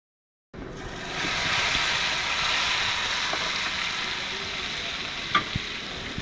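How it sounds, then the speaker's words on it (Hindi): Hot tadka tempering tipped into kadhi pakora curry, bursting into a loud, close sizzle that settles into steady crackling frying, with a faint clink near the end. "अब इस टाइम पे आपका तड़का रेडी है, तो इसे एहतियात से करी में शामिल करें।"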